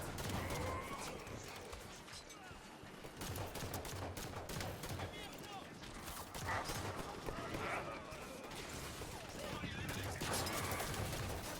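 Dense gunfire crackles through a Halo 5: Guardians battle, continuous bursts mixed with clanks and impacts, fairly loud throughout with a voice speaking briefly over the noise.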